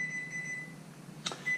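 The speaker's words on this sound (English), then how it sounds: "Okay, so the 30 minutes has passed. I'm going to turn off the timer." A kitchen oven timer alarm goes off while bacon-wrapped chicken wings cook, a faint steady tone for most of the moment, then a brief louder beep burst near the end, with no one speaking.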